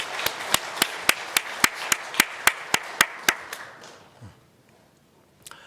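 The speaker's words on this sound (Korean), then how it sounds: "용감의 박수를 드립시다" A church congregation at a Sunday service claps in a quick, even burst of about a dozen sharp, loud claps that stop suddenly, then a quiet room.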